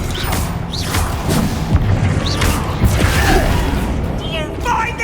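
An Expelliarmus spell is cast during a duel in the Hogwarts Legacy video game: a steady barrage of loud booming impacts, crashes and whooshing magical bursts, with voices mixed into the battle noise.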